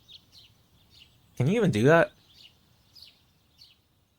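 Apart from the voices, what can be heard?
birds chirping, from a video game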